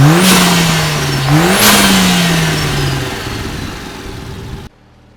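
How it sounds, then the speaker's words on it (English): A 2020 Mercedes CLA 45 AMG fitted with a cold air intake revs twice in quick succession, close and loud, with a rising whoosh each time before settling back to a steady idle and cutting off. "we're gonna do a quick rev of what it sounds like with the intake."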